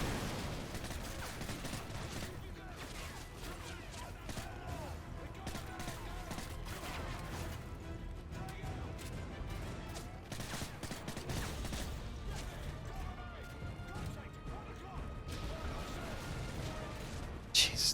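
MP5 submachine gun fire in a video game, rapid bursts repeating over a busy, cluttered mix of game sounds, with a voice talking over much of it.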